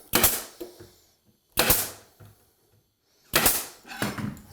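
Nail gun shooting nails into a closet panel, three loud sharp shots spaced roughly 1.5 seconds apart, each followed by a short rattling decay, with a softer knock after the last.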